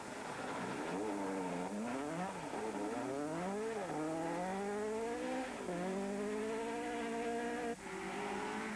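A rally car in a 2002 Castle Hellfire single-stage event skids through a junction on a wet surface, its engine revving and rising in pitch continuously, with tire noise close and loud throughout.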